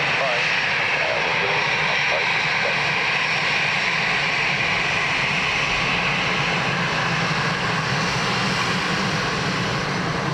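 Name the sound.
Ryanair airplane landing at Dublin Airport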